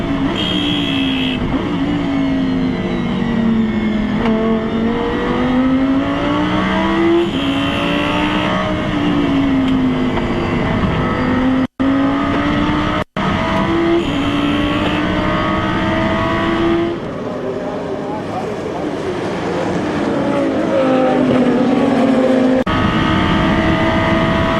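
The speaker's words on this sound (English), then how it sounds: "It's quite a heavy car, big V12 up the front" A heavy front-engined V12 race car runs at the 2011 Spa 24 Hours. Its loud engine note rises and falls through repeated gear changes and passes, close and sustained, with no talking.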